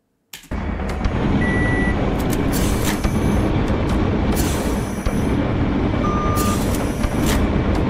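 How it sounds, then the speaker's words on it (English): Electronic beeping signals in a Saw-inspired video game, short high tones sounding twice over a steady loud rumbling game background. "when it beeps, that means like I have to get ready to jump"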